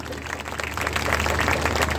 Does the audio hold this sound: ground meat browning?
no